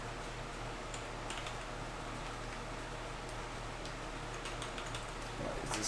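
Soft, faint clicking of keys being typed on a computer keyboard, scattered irregular taps over a steady hum of a fan or air conditioning in a quiet room.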